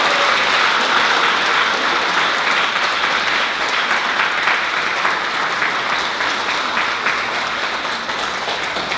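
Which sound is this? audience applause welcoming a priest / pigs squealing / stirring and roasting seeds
audience applause welcoming a priest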